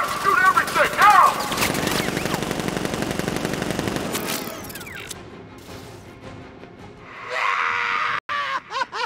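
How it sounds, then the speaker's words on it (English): Rapid automatic gunfire and single shots from Batman: Arkham Knight crackle loudly for several seconds, mixed with screams and groans, then fade to quieter game ambience before a burst of noise near the end, with voices shouting over the action. "Open fire! Shoot everything!"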